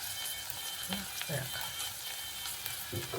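Green chillies and tomato frying in a pan for hesaru kalu saru, a soft steady sizzle with a few stirring scrapes, fairly faint, with talk over it.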